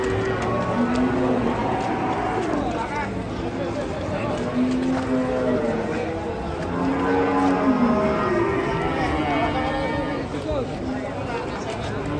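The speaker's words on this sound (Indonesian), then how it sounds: "Melayu sapi nih" A cow on a rope moos repeatedly in drawn-out calls amid commotion, loud and close, with people talking and shouting throughout.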